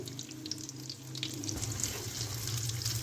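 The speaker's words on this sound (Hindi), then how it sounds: "अब हम इनको शैलो फ्राई करेंगे।" Breakfast pieces shallow frying in a pan over a low flame, with a steady close sizzle and crackle of oil throughout and brief louder pops near the end; no voices.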